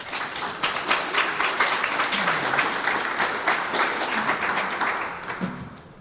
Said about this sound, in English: Let's everyone give him a big round of applause.